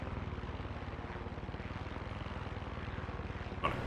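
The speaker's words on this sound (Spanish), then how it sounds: "también he cambiado evidentemente los controles del helicóptero y ahora voy bastante más cómodo." A helicopter in the Far Cry 6 video game drones steadily with a rapid rhythmic rotor thump, constant and fairly close, with a faint blip near the end.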